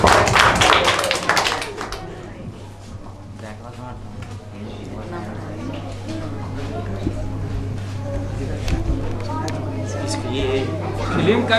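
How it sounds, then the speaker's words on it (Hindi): An audience at a quiz event gives applause, with a burst of loud, dense clapping at the start that thins to scattered taps. Chatter and talk continue under a steady low hum. "एक बार जोरदार तालियां हो जाए इसके लिए"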